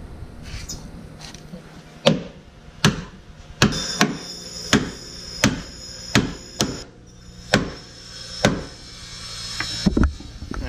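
A heavy hammer strikes the metal pinch weld of a 1997-2001 Honda CR-V during a lift kit install, about a dozen sharp, ringing close blows spaced roughly a second apart, loud and alone.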